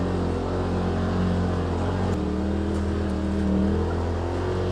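A 2018 Polaris RZR XP Turbo crawls through snow in low gear, its engine a loud, steady close-up drone with a deep rumbling hum that holds throughout, swelling slightly near the end.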